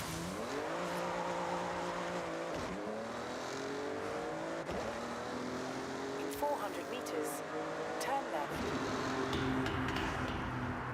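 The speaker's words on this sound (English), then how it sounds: "The general car sounds are a little bit iffy, but in the tunnel it sounds great." Car engines in the racing game Forza Horizon 6 drone and rise through gear changes, with revs climbing and dropping, tyre noise and a passing car, all loud and continuous from start to finish.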